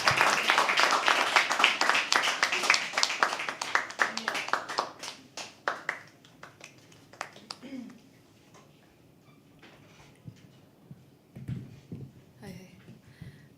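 An open mic poetry audience claps as a poet walks to the stage, loud dense clapping at first that thins out into a few scattered claps and fades, with some talk in between.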